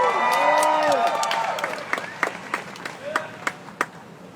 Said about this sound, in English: I'm happy that you guys are all clapping.